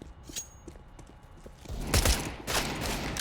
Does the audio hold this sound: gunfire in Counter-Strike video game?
yes